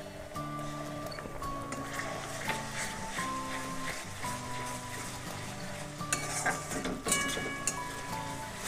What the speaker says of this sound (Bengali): পেঁয়াজ রসুন আদাটা অনেকটা ভাজা ভাজা হয়ে গেছে